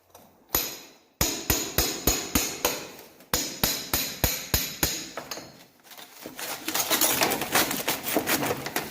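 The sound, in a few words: hammer and cold chisel chipping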